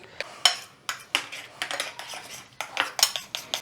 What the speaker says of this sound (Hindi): अब अच्छी तरह हम मिक्स करेंगे